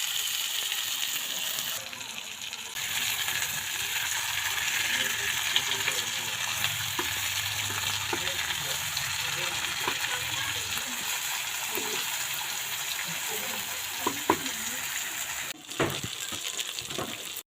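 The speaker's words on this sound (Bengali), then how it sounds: "এবার মাছ ধুয়ে এনে আমি মাছগুলো ভেজে নিচ্ছি।" Spiced fish frying in a pan, giving a continuous soft sizzle with light stirring and scraping, a few sharp clinks near the end, fairly quiet and steady.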